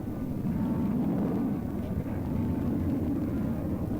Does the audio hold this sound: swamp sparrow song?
no